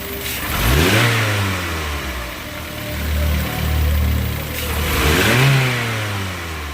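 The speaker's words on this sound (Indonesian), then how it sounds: "ini sudah engine sudah mulai panas, dan ketika kita akselerasi atau kita player atau kita gas" An old Toyota Avanza engine, already warm, revs up twice from idle, rising and falling in two clear accelerating surges. It sounds close, steady and loud, with no talking over it.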